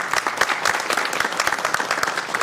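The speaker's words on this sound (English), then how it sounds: "Let's give her a big round of applause" Hearty applause from the audience at a Sacramento City Council meeting, a dense, steady patter of many clapping hands filling the room at close range, with no voices over it.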